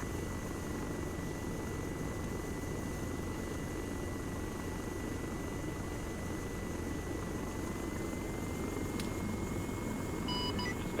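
A critically damaged helicopter flies in the military game Arma 3, its rotor and engine producing a constant dense whine and thrum, with faint tonal alarm beeps near the end.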